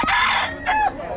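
Rooster crowing at close range, a strong harmonic crow followed by a second shorter call, with chicken clucking around it, from a flock of fowl kept at a house in Bocaue.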